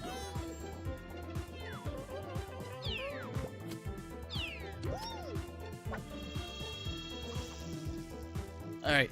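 A voice imitates a cat, repeating a meow several times in a quick series over busy game sounds with music and clatter.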